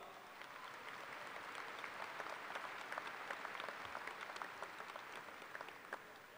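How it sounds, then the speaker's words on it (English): Audience applause at a university commencement, a faint, distant and steady patter of clapping from a large crowd that holds for several seconds. "Would you please give them all a round of applause?"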